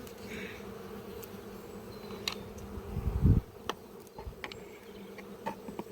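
Honeybees buzzing around a beehive in a spring apiary, a quiet steady drone with occasional louder fly-bys and soft handling knocks close to the hive.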